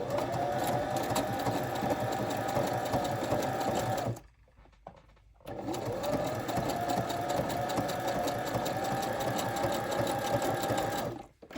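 A sewing machine runs in a fast, steady whirring stitch while making junk journal clusters, pauses for about a second, then resumes stitching continuously until stopping.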